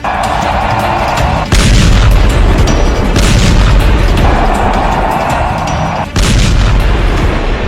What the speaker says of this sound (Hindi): ट्रंप ने खामेनेई के रॉकेटबाजों को B-2 से उड़ा डाला।